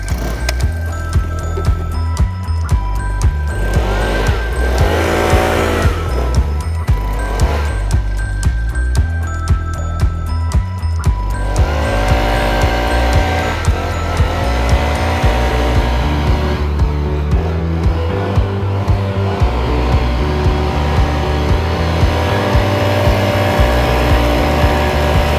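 A petrol leaf blower clears and pushes debris along in a steady professional sweep, its engine droning loud and continuous with slight rises and falls throughout and no talk over it.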